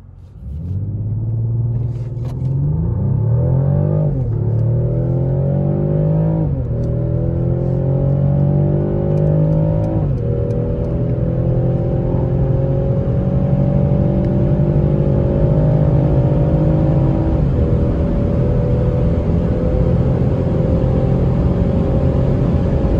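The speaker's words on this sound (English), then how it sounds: "So we are now on the Autobahn entrance. We will be heading down, pushing it to the limit." A 2020 Mercedes E450 Cabriolet in Sport Plus mode accelerates hard onto the Autobahn, its engine climbing through several upshifts with brief dips, then settling into a loud, sustained drone with no talking.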